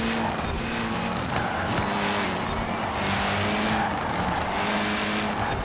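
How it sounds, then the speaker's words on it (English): Race car in Forza Horizon 4, a Nissan Pulsar on a tarmac course, braking hard: a loud, continuous roar of engine and tire squeal holds steady for several seconds without any talk. "Did that car just brake really hard?"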